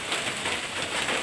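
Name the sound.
heavy rain falling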